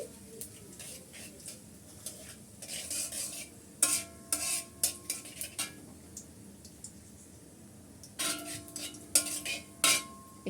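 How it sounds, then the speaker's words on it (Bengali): Whole cumin seeds fry in oil in a wok as a spatula scrapes and clinks against the metal in irregular bursts over a faint, steady sizzle. "গোটা জিরা একটু তেলের উপরে ভেজে নিচ্ছি"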